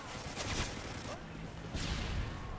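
Gunfire in the online shooter Call of Duty: Modern Warfare 3, with rapid bursts of shots in two clusters, fairly distant and dense over continuous game noise.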